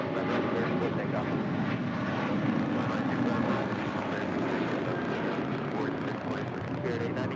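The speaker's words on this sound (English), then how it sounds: "That was Spirit 890 departing to Louisville on an A321." A Spirit Airlines Airbus A321 departs LAX, its jet roar a continuous dense rumble that stays fairly level and fades slightly near the end, with voices speaking over it.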